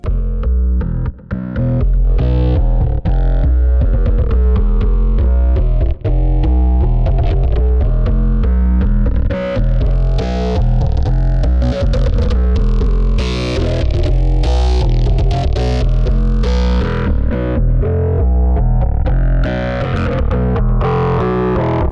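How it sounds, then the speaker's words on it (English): Sound-design patch built from layered, distorted synth tones with an echo effect added for space, loud and dense, pulsing chords and hits smearing into repeating trails throughout. "So let's add an echo effect to give it a sense of space."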